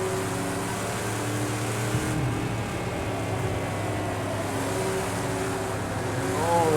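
A classic GT race car engine at Watkins Glen in Project CARS 2, a loud, sustained engine drone with shifting harmonic pitch as the revs rise and fall, close and continuous.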